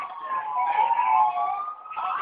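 A wailing ambulance siren in GTA IV: The Ballad of Gay Tony rises and falls steadily, fairly loud and close, sounding continuously with no voices over it.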